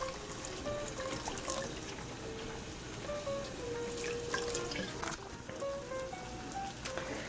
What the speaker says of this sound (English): Now we're going to go ahead and pour in a little bit of white wine.